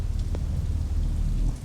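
Heavy rain falling outside, a steady low dense roar of downpour with a faint tick or two of drops, brief and continuous without speech.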